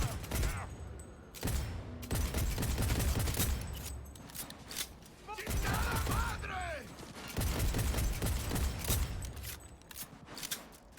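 Gunfire in the Cyberpunk 2077 video game comes in rapid bursts of close, sharp shots, broken by brief lulls, with clicks from the weapon mechanisms between volleys.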